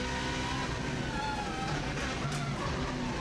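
A Subaru Impreza rally car engine drones steadily on an onboard lap of a time-trial course, a continuous, fairly quiet hum of engine and road noise with no break.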